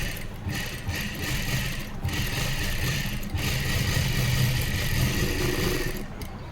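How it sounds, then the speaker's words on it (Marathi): Steady whirring drone of a sewing machine running continuously, double-stitching piping onto a blouse neckline, loud and close with no talk. "आणि आता डबल शिलाई करून घेऊ."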